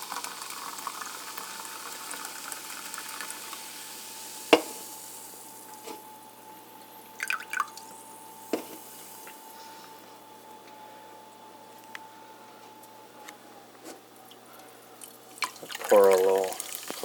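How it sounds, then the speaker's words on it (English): Cherry-flavoured Coca-Cola soda is poured from a can into a glass, giving a soft steady fizzing and trickle with occasional clinks and drips, fairly quiet and close, ending with brief voice sounds. "you open up this can of Coca Cola Cherry and you pour it into this glass"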